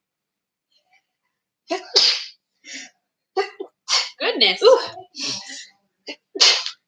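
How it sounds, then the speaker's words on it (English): A single loud sneeze bursts out, surrounded by short spoken exclamations from one nearby voice. "I'm gonna sneeze"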